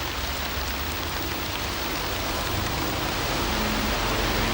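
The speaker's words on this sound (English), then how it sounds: "Mr. and Mrs. McCoist are cycling in the rain." Steady rain falls continuously as two people cycle along a path in Bridge of Weir, a dense, even hiss with no voices.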